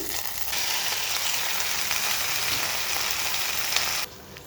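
Chopped tomatoes sizzle steadily in hot oil for a tomato and mint pickle, a dense, even frying hiss for about four seconds before it suddenly drops quieter.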